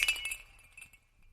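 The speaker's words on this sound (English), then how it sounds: "a sudden smashing sound broke the silence" A vase smashes at night in a quiet house, a sharp crash of breaking glass followed by a few tinkling fragments that ring and fade into silence.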